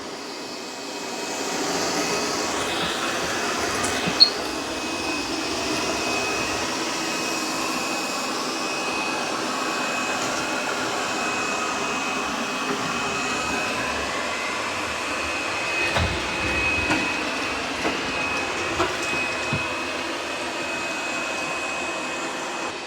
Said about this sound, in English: Vacuuming looks like it's doing okay.